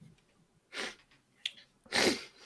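Two sneezes from a person on a podcast, each a sharp burst of breathy noise over near silence, with a small breath between them.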